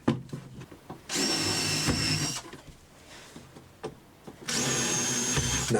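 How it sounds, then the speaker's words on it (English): Power drill driving screws through a wooden carcass into a skirting board, with two loud, steady whirring bursts of about a second each and quieter handling noise between them. "we can screw directly through the carcass into the skirting board or baseboard, first at the sides"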